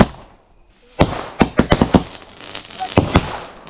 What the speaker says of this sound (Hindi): अब बारी है पटाखे फोड़ने की। तो मेरे हाथ में रॉकेट है,